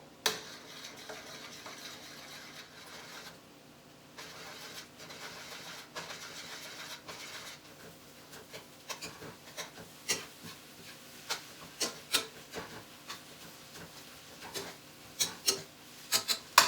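Eggs being scrambled in a pan, a soft sizzle under scraping and stirring, with sharp utensil taps against the pan growing more frequent toward the end, close and fairly quiet.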